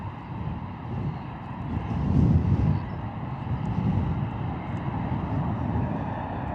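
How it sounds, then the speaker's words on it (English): A Ryanair airliner arriving from Venice at Bristol Airport on a windy morning, its engine roar swelling to a peak then lingering as a broad rumble, mixed with wind buffeting on the microphone. "Beautiful arrival there from Ryanair coming in from Venice this morning"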